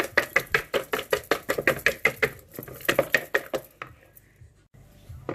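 A spoon or whisk rapidly beating carrot and onion bhaji batter in a bowl, about fifteen quick rhythmic knocks at close range, then the beating stops and only faint background remains.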